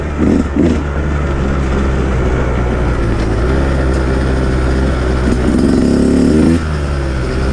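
Loud, continuous engine drone of a 2019 Husqvarna TE 150 two-stroke dirt bike ridden in wet conditions, close and steady with slight surges in revs, and no talking.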